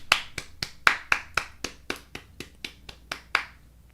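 Sharp, evenly spaced hand claps in a podcast setting, about fourteen crisp slaps at a steady brisk rhythm, close and fairly loud, with no talking over them.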